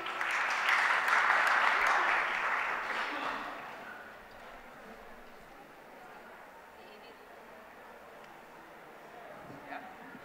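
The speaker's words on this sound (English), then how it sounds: "Bigger round of applause" Audience applause at a Jaipur Literature Festival panel session, loud clapping at the start that fades away after a few seconds into quiet room tone.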